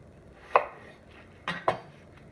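A knife chops through mushrooms on a cutting board while prepping risotto, giving three sharp, close cuts: one single chop, then a quick pair about a second later.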